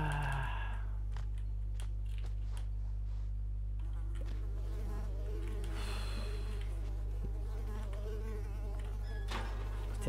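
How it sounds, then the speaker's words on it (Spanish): Insects buzz and whine steadily amid the watery ambience of the game Unravel, a constant close drone with small flickers of sound, no voices present. "hace que le cojas asco a los mosquitos"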